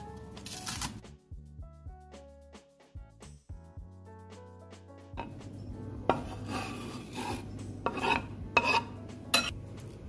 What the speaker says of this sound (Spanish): Ahora vamos a picar la cebollita de verdeo o el perejil, lo que tengan ustedes a mano.